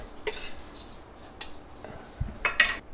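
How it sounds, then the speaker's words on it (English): Green egg fried rice tossed in a pan, with a few scattered scrapes and clinks of a utensil against the cookware, fairly quiet with brief louder bursts near the end. "So I'm just gonna toss everything together"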